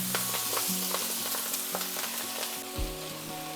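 Greens tipped into hot oil with cumin seeds and turmeric set off a loud, close, steady sizzle with crackling and a few soft stirring knocks, with no talk over it.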